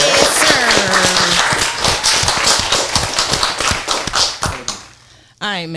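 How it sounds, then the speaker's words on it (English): Several people in a podcast studio clap for a guest: a loose, close burst of distinct hand claps with voices talking and whooping over them. The clapping thins into scattered claps and stops, and a voice starts again at the end. "Give him a round of applause."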